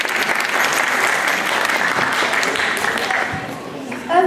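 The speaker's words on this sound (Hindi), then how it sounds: "रागनी के लिए जोरदार तालियां" An audience at a children's and youth Hindi stage show breaks into loud, sustained clapping for a young performer, dense and close, tapering slightly near the end.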